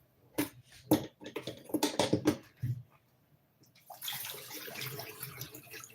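Tap water runs into a basin as nkwobo salad ingredients are rinsed, with irregular splashes, sloshing and handling noises up close, followed by a steadier hiss of running water.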